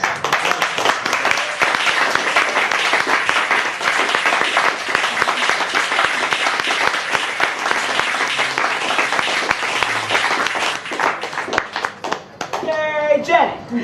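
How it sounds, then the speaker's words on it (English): Audience at a poetry reading applauds a poet with sustained, dense clapping, loud and continuous, cheering voices mixed in, and speech rising over the tail end. "Keep clapping for Jenny!"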